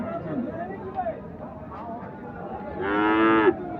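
People talk nearby at a cattle market with bulls for Qurbani, then a single loud, drawn-out cow moo rises near the end.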